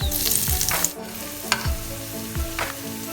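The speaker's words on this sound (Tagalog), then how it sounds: "Kapag mainit na ang mantika, ilagay ang bawang." Garlic sizzles steadily as it fries in hot oil, with a few scrapes and taps of a utensil stirring in the pan.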